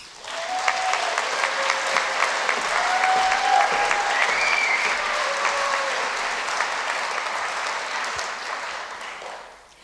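An audience at a university prize-giving ceremony applauds a contestant walking to the stage: steady, dense clapping from a sizable crowd that holds for several seconds and then tapers off, with faint voices mixed in.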